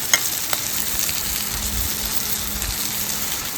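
Mackerel coated in masala fries in hot oil in a pan, a steady close sizzle with faint crackles and a couple of sharp pops near the start.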